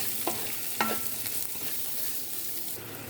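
Cut beans stir-frying with salt and turmeric, a quiet continuous sizzle with a few sharp scraping strokes of a spatula near the start.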